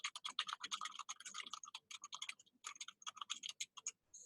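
Rapid typing on a computer keyboard while entering bibliography information, with dense bursts of key clicks, a short pause, then more clattering keystrokes, close and fairly quiet.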